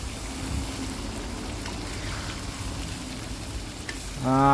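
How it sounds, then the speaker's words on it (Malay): Oil sizzles and crackles steadily as eel fries in a pan until crisp, with faint stirring sounds and a brief tone near the end. "Kita goreng sampai dia garing dah."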